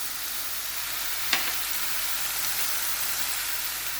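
Red chili, salt and spices fry in a pan for a bottle gourd curry, giving a steady, hissing sizzle throughout with one brief clink near the start.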